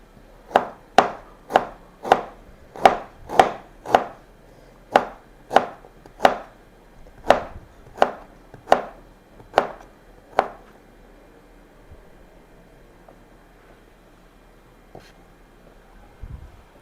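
Fresh ginger chopped into pieces with a knife on a board, about thirteen crisp, sharp chops in a steady rhythm that slows and stops, followed by near silence.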